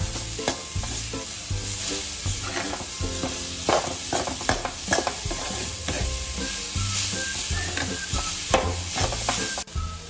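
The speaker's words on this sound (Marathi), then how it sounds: "तर सारण आपल्याला एकसारखं हलवत राहायचं आहे।" A sweet modak filling of jaggery, with optional khoya to come, is stirred steadily in a pan, giving a busy scraping and sizzling texture with repeated spoon strokes and a bed of soft background music throughout.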